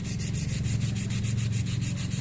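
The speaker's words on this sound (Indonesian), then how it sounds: "bagian yang paling hitam itu ya kita amplas lagi pelan-pelan" Sandpaper worked by hand over a fishing rod joint in quick, even back-and-forth strokes, close and steady with no speech.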